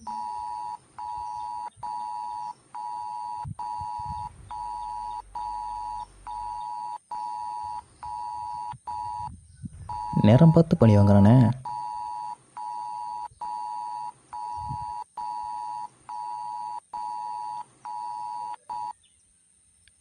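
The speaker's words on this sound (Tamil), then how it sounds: "சாரி, கடைசி ரிங்கில் எடுக்கலான்னு பார்த்தேன்" A mobile phone rings with a repeating electronic ringtone in regular pulses that run nearly the whole time, loud and close, with a short burst of louder noise near the middle and a brief line of speech.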